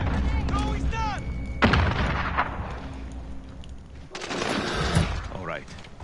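Gunfire from a modern first-person shooter video game, with sharp bursts around the two-second mark and again near four to five seconds over a busy game mix; a voice talks loudly in between.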